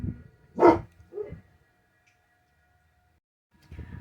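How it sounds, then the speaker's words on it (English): A pet dog, a female, barks indoors in a couple of short bursts, with a gap of quiet and then more barking at the end. The barks are moderately loud and heard alone, without talk. "So my dog is barking."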